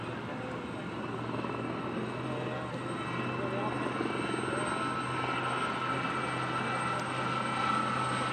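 A record-holding single-engine helicopter at an airshow in Ayr, Scotland, drones steadily with a constant rotor thump and engine whine, loud and unbroken throughout.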